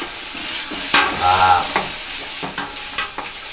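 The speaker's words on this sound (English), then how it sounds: "So what I'm doing now is I'm mixing the meat up to coat it in the bacon fat" Ground beef stirred through hot bacon fat in a pan for homemade chili: a loud, close sizzle with scraping strokes of the spoon and irregular spatters throughout.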